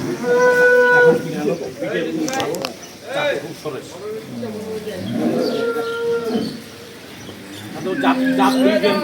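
A cow moos loudly nearby, several drawn-out calls, with people talking around it.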